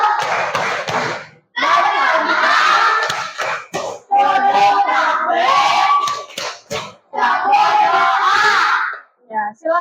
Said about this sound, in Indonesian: mari kita tepuk pulang terlebih dahulu